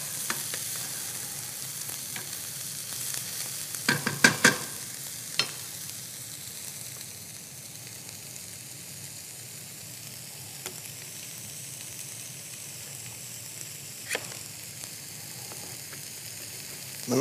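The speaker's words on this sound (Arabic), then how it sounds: "ومنضيف قطع الدجاج على البصل الأخضر مع ثوم،" Chicken pieces frying in a pan with green onion and garlic give a steady, moderate sizzle, with a cluster of sharper clicks and clatter from stirring near the start and a few isolated knocks later.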